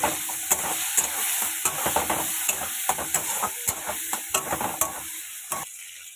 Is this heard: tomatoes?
yes